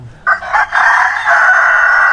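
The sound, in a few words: chickens crowing and clucking on a farm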